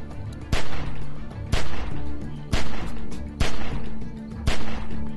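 Gunshots aimed at a window in The Walking Dead: 400 Days, a game, with about six sharp, loud single shots spaced roughly a second apart over a steady background.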